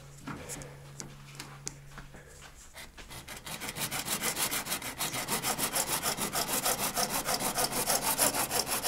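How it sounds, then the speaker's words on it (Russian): A hand saw cutting through old wooden floor boards during floor replacement, starting with a few tentative scrapes and then settling into steady, rhythmic strokes that grow louder and faster. "Серега, давай пилим"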